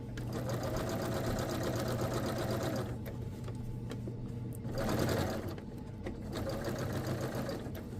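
A sewing machine runs steadily while stitching the front of a Vogue 9292 dress, with a close, continuous motor whir that briefly slows and pauses around the curve before speeding up again.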